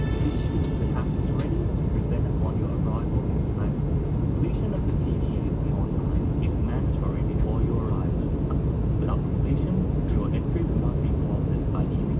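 A Thai Airways airliner landing in Bangkok, heard from inside the cabin as a steady, loud low engine and airflow roar that continues throughout, with faint voices beneath it.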